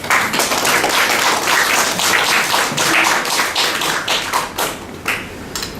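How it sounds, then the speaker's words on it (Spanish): An audience at an informational seminar on diabetes care gives a loud, sustained round of applause, dense clapping that holds steady and then thins out toward the end. "Lo recibimos con un fuerte aplauso."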